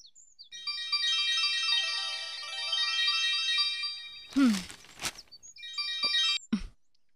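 A mobile phone rings with an incoming call, playing a bright, melodic ringtone close and loud. The tune repeats in cycles for several seconds and is briefly broken by clattering noises before it resumes.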